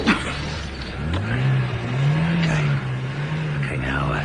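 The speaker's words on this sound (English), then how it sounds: "Revving up engines on a car standing in the street." A car engine revving while standing in the street in a radio drama scene, a steady rising and falling motor note with some rumble, heard under quiet background sound.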